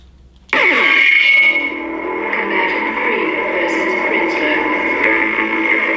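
Custom Korbanth MPP 2.5 Proffie Darth Vader lightsaber playing a music sound font, switching on abruptly with a loud electronic burst that settles into a sustained, buzzing musical hum, heard alone.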